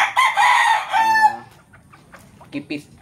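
A rooster crows once loudly and close among breeding chickens, a long strained call, followed by a few soft clucks from the flock.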